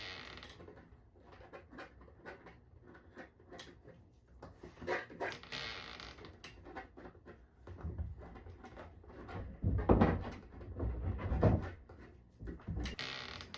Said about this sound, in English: In case you're wondering what the noises are, my builder is working on the roof.